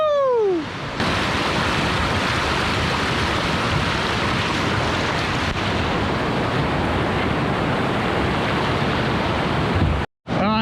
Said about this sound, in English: We're gonna watch her hit this rapid.